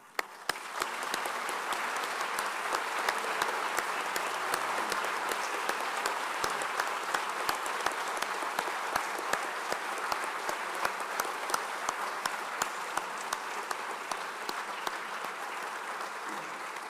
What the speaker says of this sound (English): Could you please rise for a round of applause